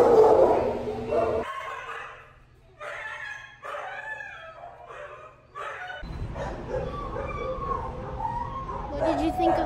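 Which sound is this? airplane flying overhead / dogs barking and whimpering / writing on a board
dogs barking and whimpering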